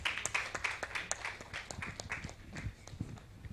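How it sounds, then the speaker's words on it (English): Audience applause at a company launch event: a dense patter of many hands clapping at moderate volume, tapering slightly, with no speech over it. "Round of applause, please"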